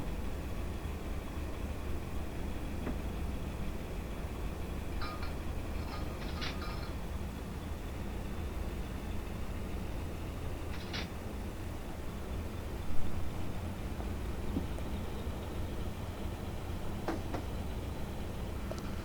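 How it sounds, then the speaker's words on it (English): A Pennsylvania Railroad Baldwin Centipede diesel locomotive in Train Simulator Classic, a steady low engine drone and broad rumble throughout, with a few faint metallic clanks and one brief louder knock partway through. "there's a lot of fun sounds to this locomotive that a lot of other ones just outright miss."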